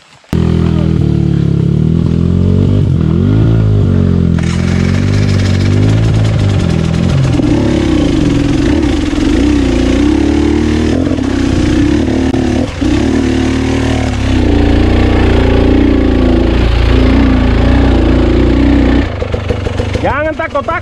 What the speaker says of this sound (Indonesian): Pokoknya jangan sampai mati tuh motor.